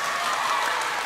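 A steady, dense round of audience applause fills the whole moment at a Bible quiz final, a packed room clapping evenly with no pauses.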